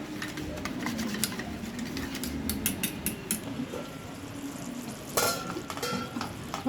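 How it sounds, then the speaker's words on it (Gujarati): Masala for a Gujarati dahi bhindi gravy is stirred in a pan. A steady sizzle runs under repeated light scraping strokes, with a brighter clatter near the end and no talk. "હવે આપણે બધું મિક્સ કરી લઈશું મસાલો।"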